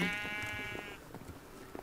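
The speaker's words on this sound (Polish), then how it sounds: "jest taka owca" A sheep bleats in a video game, one clear wavering bleat at the start fading into faint game ambience and small clicks.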